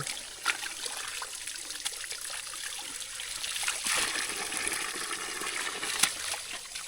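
Cool mountain water piped into a traditional village, trickling and splashing steadily at close range with a soft hiss and occasional small splats.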